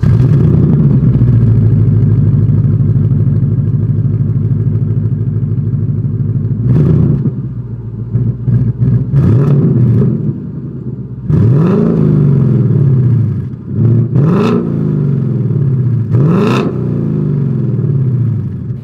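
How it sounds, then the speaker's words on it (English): A loud V8 exhaust on a 2021 Ford Mustang GT idles with a deep rumble, then revs sharply several times, each blip rising and falling back to idle. "here is that exhaust clip."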